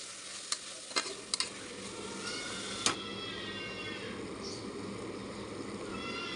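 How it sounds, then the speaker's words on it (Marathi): Potatoes sauté in hot oil in a pan for a prawn rice dish, giving a steady close sizzle with a few sharp clicks of a spoon against the pan near the start. "आता बटाटे टाकते बटाटे चांगले परतून घेऊया आपण तेलामध्ये"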